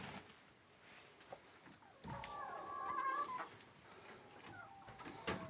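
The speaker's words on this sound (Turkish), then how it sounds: "Buraya da yaklaşık bir 50 küsür tane tavuk koyduk" About fifty hens cluck and murmur in a coop over a noisy background, with a few louder calls standing out midway, moderately close.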